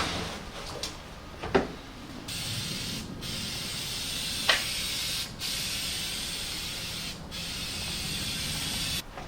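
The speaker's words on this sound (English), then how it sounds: "this comes out just like regular spray paint. So it's spraying pretty even" Steady hissing of Herculiner bed liner sprayed from a spray can onto a 1999 Ford Ranger, in several long bursts separated by brief pauses, close and continuous, with a few clicks and clatters at the start.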